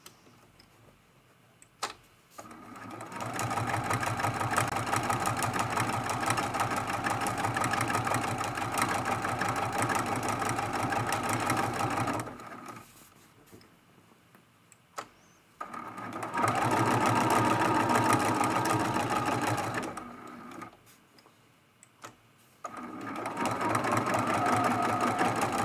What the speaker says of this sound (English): See, that's pretty simple quilting